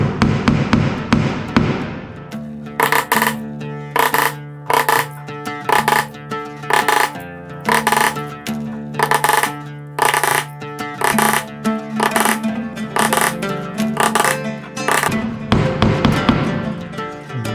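Nails hammered into a board for string art, heard as a long run of sharp, ringing metallic taps in quick clusters with short pauses between them, loud and close.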